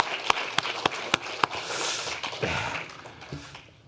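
A church congregation claps to welcome two members, a short spell of scattered, moderately close claps that swells into a soft wash of applause and fades away.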